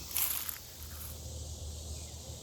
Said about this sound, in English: you can hear the cicadas all around